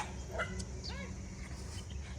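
Dogs bark briefly with a few short yips and whimpers over a steady low rumble and background voices, the calls sounding moderately close.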